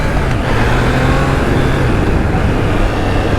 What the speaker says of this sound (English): the sound of these triples are just something else